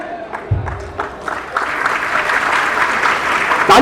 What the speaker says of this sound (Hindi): तालियों से बताया गया, समझ में आती बात